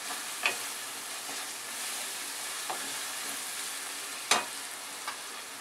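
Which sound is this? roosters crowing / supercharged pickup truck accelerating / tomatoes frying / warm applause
tomatoes frying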